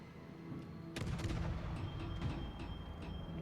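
A naval gun shot in World of Warships, a heavy boom rolling into low rumbling with a few lighter cracks trailing after it, in a battle involving a Gearing destroyer.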